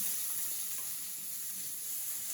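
Potatoes and radish frying in a pan with blackened cumin: a steady, soft hiss of oil sizzling throughout, quiet and even, with no voices.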